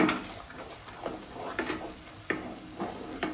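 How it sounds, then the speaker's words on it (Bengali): Masala paste is stir-fried in a hot pan while cooking katla fish kalia, giving a steady sizzle broken by repeated scraping strokes of the spatula, close and moderately loud. "এবার মশলাটা এবার আমি খুব সুন্দর করে কিন্তু কষিয়ে নেবো প্রায় 5 মিনিটের মতন।"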